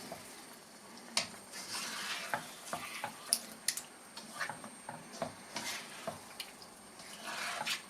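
A spoon scrapes and stirs thick fish curry masala in a pan, irregular clattering and scraping strokes over a soft sizzle, fairly quiet and close, with no voices.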